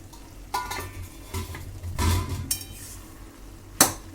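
Bottle gourd cooked with prawns being stirred in a pan at medium heat, giving a few scraping and clinking strokes of a spatula against the metal, with soft sizzling underneath and no talk.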